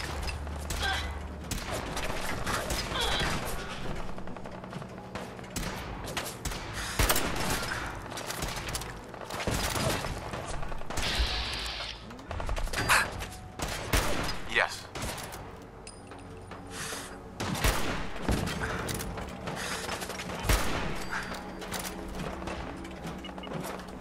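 Bursts of gunfire crack and boom from several directions in a tense firefight, dense overlapping shots and rattling volleys filling the scene, with voices shouting between the blasts.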